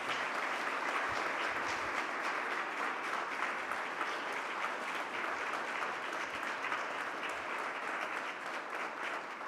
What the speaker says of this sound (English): Can we have a big round of applause to those who